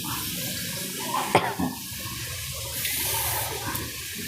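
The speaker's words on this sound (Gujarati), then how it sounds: "અડધો ગ્લાસ પાણી નાખીશું આપણે" Water poured from a glass into a pan of papad curry base with oil and spices, a short splashing gush in the middle over low steady background noise, close and moderately quiet.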